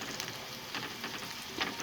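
Quiet, steady sizzling of onions frying in hot ghee, with soft crackles and pops scattered throughout.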